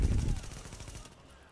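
Rapid gunfire in a station in the video game The Division, a loud burst of repeated shots at the start that settles into a quicker, fainter rattle before cutting off.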